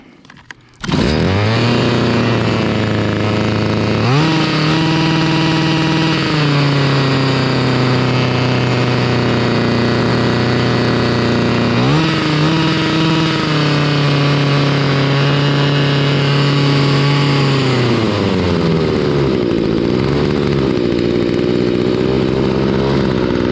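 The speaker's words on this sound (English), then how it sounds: "It just idled up too high, man." A Stihl FS45 weed trimmer's small two-stroke engine starts and runs steadily at a high, buzzing idle, loud and close, with a few pitch shifts as it surges up and settles, and no talking.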